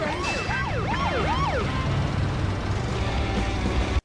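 A wailing police siren in a video game sweeps up and down several times, loud and close over engine noise, then gives way to a continuing motor rumble.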